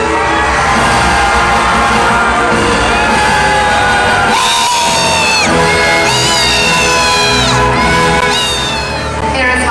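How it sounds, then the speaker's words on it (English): A Medieval Times tournament crowd roars continuously, loud and near, with children shouting, whoops and cheers rising and falling throughout the arena. "Rise, my lord, and hear your people cheer."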